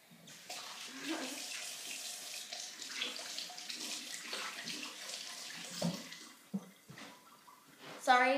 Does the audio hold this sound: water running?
yes